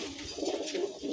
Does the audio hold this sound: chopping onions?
no